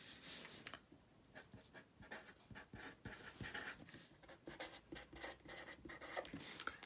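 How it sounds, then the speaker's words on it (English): A pen writes in a paper planner close by, quiet irregular scratching strokes in short bursts with brief pauses between them. "let's just write down a few things to do on here."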